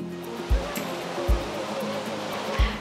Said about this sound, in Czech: Jsou tady hlavním lákadlem ty vodopády,